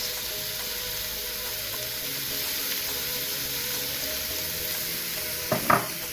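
About 1.5 cups of shallots sizzle steadily in a hot pan over medium heat, a close, even hiss that runs throughout. A couple of brief clinks of stirring land near the end.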